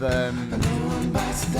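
Layered electric guitar played through a looper pedal with a sustained, reverberant wash behind it, steady and fairly loud, with a few chopped muted strums and no voices.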